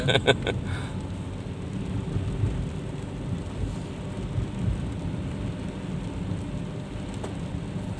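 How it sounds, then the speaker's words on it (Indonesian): Steady, dense heavy rain at night roars without a break, a continuous wash of noise with a few sharp ticks near the start. "Hujan kayak ini ngeri-ngeri sedap juga bang."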